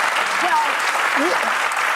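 A studio audience at a daytime talk show claps in sustained, dense applause, loud and close, with a voice speaking over the clapping throughout.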